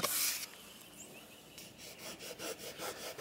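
Fingers rub firmly over the wood interior trim of a 1986 BMW 735i E23 sedan. The sound is soft and scratchy and close, with repeated rhythmic strokes that grow more pronounced toward the end.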